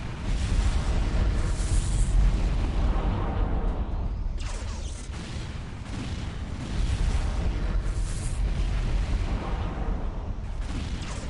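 Missiles pound a Land Raider tank in a Dawn of War: Ultimate Apocalypse battle between Tau and Space Marines, a continuous loud roar of blasts and rumbling impacts with sharper bursts breaking through.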